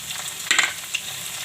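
Garlic, ginger and chillies fry in hot oil for a gram flour gundi curry, a close, steady sizzle with a brighter crackling flare as something is dropped in.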